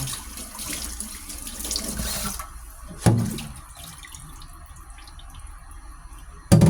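Tap water runs steadily into a kitchen sink while tilapia is cleaned, a continuous splashing stream with a few sharper clatters and knocks near the start and end, no talking.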